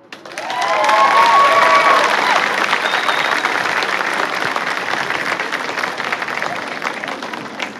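Sustained, loud applause from a large crowd at a senior convocation for a graduating class, steady clapping with a few cheers and whistles, continuing for several seconds.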